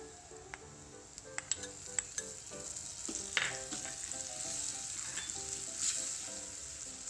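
Green garlic tempered in hot oil for Kathiyawadi curd tikhari sizzles and crackles nearby, with a few sharp clinks of a spoon against the pan at the start and no talk.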